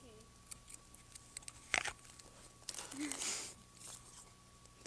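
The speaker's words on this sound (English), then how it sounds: "Give another riffle shuffle." A deck of playing cards is riffle shuffled: a quiet tap or two, then a short, brisk burst of fluttering card clicks lasting under a second, faint and close, with a muffled murmur in the background.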